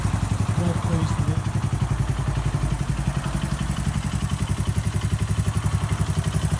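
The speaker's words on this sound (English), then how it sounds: "Engine sounds like a sewing machine, absolutely brilliant." A restored 1972 Honda CB125 motorcycle runs at a steady idle. The small engine chatters evenly and loud, close to the microphone, in a fast, uniform mechanical pulse with light clatter.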